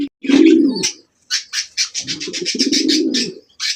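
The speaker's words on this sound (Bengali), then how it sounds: "এটা দেখা যায় খুবই সুন্দর একজন কবুতর" Pigeons cooing at a pigeon sale of local and foreign birds: close, low throaty coos in two longer bursts, with quick higher chirps and twitters repeating between and over them, no talk.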